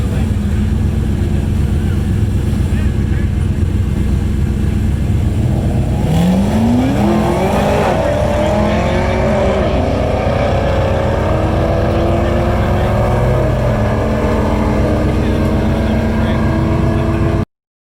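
Ford F-150 pickup truck drag racing down the right lane at Tulsa Raceway Park, engine roaring loudly and rising in pitch as it accelerates through the gears, over constant heavy background noise.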